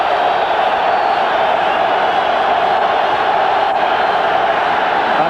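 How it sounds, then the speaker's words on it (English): A stadium crowd roars at a 1995 NFL game, San Diego at Oakland in the first game back in Oakland, a broad sustained cheer that holds steady throughout. "And the crowd wakes up again."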